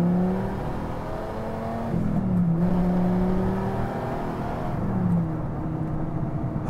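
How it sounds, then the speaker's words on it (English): A Dodge Viper pulls hard through its gears, the engine note climbing in pitch, dropping at a shift near the two-second mark and rising again before a second shift, heard steadily from inside. "Let's go ahead and go through the gears again."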